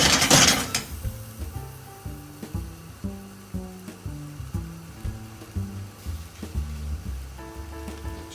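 Shallots sizzling in a hot wok: a soft, continuous crackling fry after a brief louder burst at the start, with rhythmic tonal music playing underneath.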